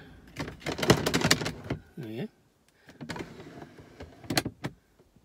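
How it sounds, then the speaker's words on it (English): Interior drawer sliding open in a Mercedes SLK R170 car, short mechanical clicks and a brief whirring slide, between bursts of someone talking nearby. "This is the drawer."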